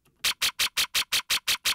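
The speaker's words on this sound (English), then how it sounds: "So this thing right here is just a piece of modular noise" Nine short, evenly spaced bursts of modular synth noise pulse in a quick steady rhythm, each one sharp and bright.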